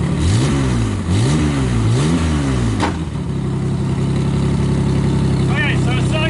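A cold Holden VP Commodore Lexen engine warming up with a slight misfire, revved in rising and falling sweeps before settling into a steady loud idle; speech is heard briefly over it.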